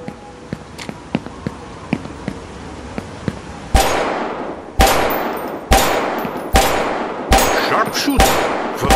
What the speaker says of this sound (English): Try to hit the target 5 times with your pistol.